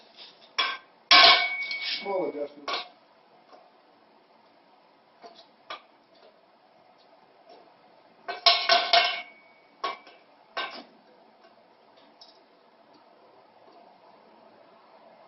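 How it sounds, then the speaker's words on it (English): Sharp metallic taps from a small hammer on a car part being fitted come in short bursts, a quick cluster early on and another midway, with quiet pauses between and a brief spoken phrase. "I have a small hammer here."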